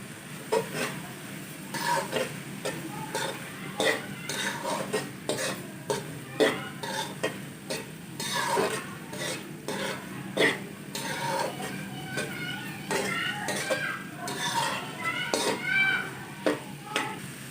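A spoon stirs ground coconut into a bottle gourd barfi mixture in a pan, making steady repeated scraping and stirring strokes with soft sizzling throughout, close and moderately loud.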